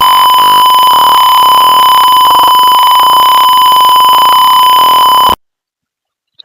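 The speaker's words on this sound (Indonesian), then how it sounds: "maka dia akan menampilkan earthquake alert dan juga buzzernya itu berbunyi" A buzzer on a digital electronics sensor circuit sounds an earthquake alert after the sensor is tilted, a loud continuous electronic tone with rapid pulsing texture that runs steadily for about five seconds, then cuts off abruptly into silence.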